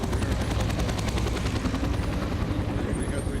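Helicopter ride at a homecoming event for veterans, with a loud, steady rotor thump and engine roar filling the cabin, continuous and close throughout.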